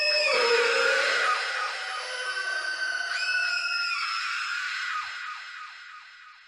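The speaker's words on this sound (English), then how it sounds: "The Gorgon's enraged screams faded into the distance" Enraged Gorgons' screams as a sound effect, several shrill, piercing voices overlapping loudly at first, then wavering and slowly fading away.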